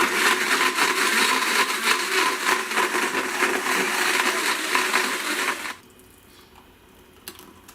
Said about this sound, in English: Just pop on the lid and blend until it is